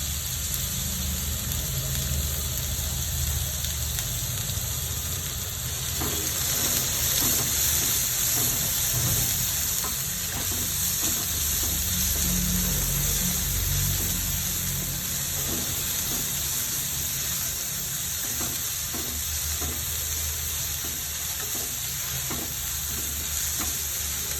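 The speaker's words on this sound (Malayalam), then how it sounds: "കൊച്ചുള്ളിയും സവാളയും കൂടെ ചേർത്തതാണ് അത് ചേർത്ത് കൊടുക്കാം നന്നായിട്ട് വഴറ്റിയെടുക്കാം" Shallots and onions sautéing in a pan for stuffed egg bajji filling give a loud, steady sizzle and hiss throughout, with soft rhythmic scraping as they are stirred, and no talking.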